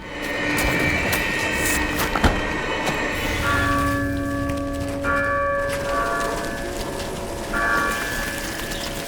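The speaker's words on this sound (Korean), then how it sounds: "교회에 남아있던 사람들이 종소리로 벌레들을 유인합니다." A church bell rings out in a survival film scene, repeated sustained tolls with lingering tones over a busy rumbling background, moderately loud and continuous.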